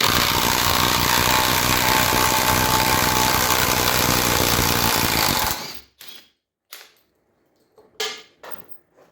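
A Parkside Performance PDSSAP-20 Li D3 cordless tool runs loud and steady on a partly charged 4 amp battery, a continuous buzzing drone that cuts off abruptly, followed by a few scattered knocks and handling sounds.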